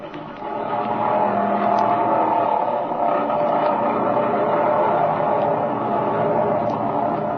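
A propeller airplane revs and rolls down a runway for takeoff in an old radio drama, its engine a steady, loud droning roar that swells in at the start and holds throughout.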